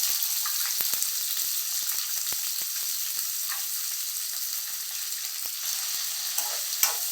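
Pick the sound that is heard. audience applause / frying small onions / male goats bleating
frying small onions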